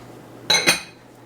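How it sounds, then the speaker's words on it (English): Two quick metallic clinks in close succession as chocolate chips are stirred in a mixing bowl for triple chocolate chip cookie dough, close and fairly loud against a quiet kitchen. "I'm just going to give my little chocolate chips here a good little mix"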